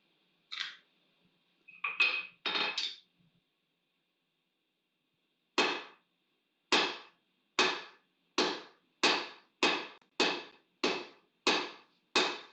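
Hammer blows ringing on a blacksmith's anvil: a few quick irregular strikes, a pause, then a steady run of about ten evenly spaced, sharp metallic hits, close and clear with no talk.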